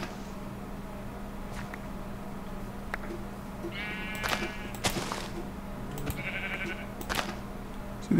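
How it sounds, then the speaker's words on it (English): Sheep bleat in a jungle island video game, two clear calls rising over a steady low ambient hum with a few sharp thumps of footsteps or an axe nearby. "See, there sounds like there's more sheep."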